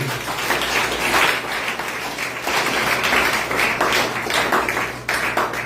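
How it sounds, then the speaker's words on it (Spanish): A church congregation applauds continuously, dense clapping that swells and stays loud for several seconds before dipping near the end. "Den otro aplauso a Dios."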